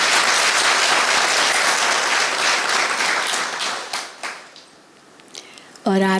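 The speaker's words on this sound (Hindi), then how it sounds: "जोर से ताली बजा सकते अपनी।" A loud, dense burst of audience clapping fills a spiritual gathering hall, sustained for several seconds before thinning out and fading, with a voice briefly starting up at the end.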